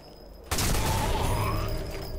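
A shot grenade bursts in Sniper Elite 4, a sudden loud crack that opens into a sustained rumbling, debris-filled roar lasting well over a second.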